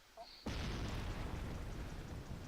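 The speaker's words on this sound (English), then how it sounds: "Big explosion about to happen." An explosion in the space game Kerbal Space Program: a faint lead-in with a small blip, then a sudden loud blast that holds as a sustained, broad rumbling roar for about two seconds, no speech.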